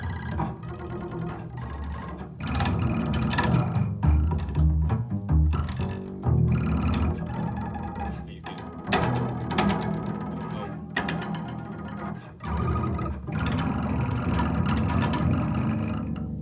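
Buzzy, rattling plucked string tones with a metallic, ratchet-like jangle from a stick placed between the strings, played in uneven phrases with short pauses between them.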